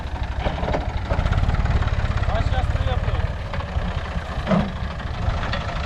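A tractor engine at an alfalfa mowing job, a heavy low throbbing idle that rises into a louder pulsing rev, close up with people talking over it.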